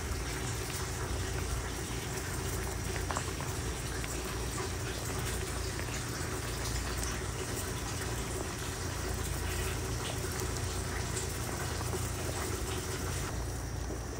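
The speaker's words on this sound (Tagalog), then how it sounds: "Nilagay na natin ang isda. Kumukulo na po." Fish sinigang with grouper simmering in a pot, a steady soft bubbling and hiss of boiling broth running evenly throughout with no voices.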